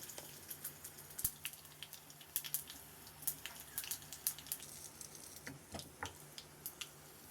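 Mustard seeds and green chillies temper in hot oil in a pan for a carrot salad, a faint steady sizzle with scattered sharp pops and crackles.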